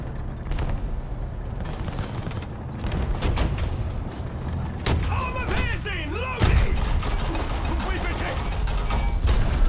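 Cannon and gun fire in a tank battle video game, repeated heavy shots and booms with mechanical clatter spread across several seconds, under someone talking.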